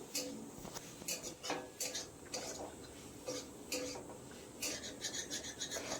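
Spiced pointed gourd being stir-fried in a kadai, with a spatula scraping and clattering against the metal in steady, busy strokes over a soft background hiss.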